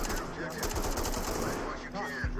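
Rapid automatic gunfire rattles in the tactical shooter game Ready or Not, a dense continuous burst of shots that stays loud throughout, with a faint voice mixed under the clatter.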